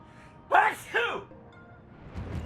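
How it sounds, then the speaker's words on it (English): A person sneezes once, a sharp close burst with a voiced, drawn-out two-part release, followed by quiet breathing and faint movement. "That was a sneeze and a half."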